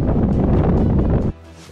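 Strong wind blows outdoors near caves at Habarana, Sri Lanka, buffeting the microphone with a loud, rumbling roar that cuts off abruptly near the end, leaving quieter rustling.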